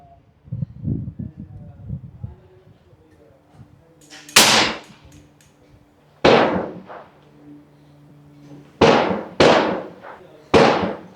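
A BinTac PA 30 pump-action air rifle fires on an outdoor range. Several sharp, loud cracks ring out at irregular intervals, each ending in a short decay, with quieter handling noises and faint rustling between shots.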